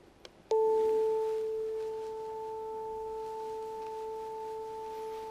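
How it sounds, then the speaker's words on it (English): After a couple of faint clicks, two steady pure tones start together and hold, their combined sound gently wavering in loudness as they beat. "If you take those 2 sine waves and you play them together"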